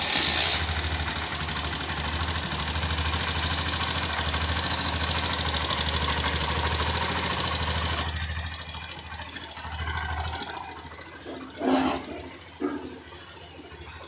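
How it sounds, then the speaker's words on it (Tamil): A Honda Shine motorcycle with a weak battery, kick-started and running, idles loudly and steadily up close for about eight seconds, then settles to a quieter hum broken by a few clunks and a brief sharp burst. "இப்போ வண்டி ஸ்டார்ட் பண்ணுவோம். அப்படியே கிக்கரில் எடுத்துட்டோம்."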